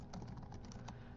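Quiet, rapid typing on a computer keyboard, with soft irregular key clicks close by over low background hum.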